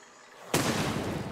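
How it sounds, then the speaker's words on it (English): A trebuchet in the game Besiege blows itself apart: after a quiet stretch, one sudden loud explosive burst hits and then rolls on as dense, crackling rumble. "Just the exploded trebuchet."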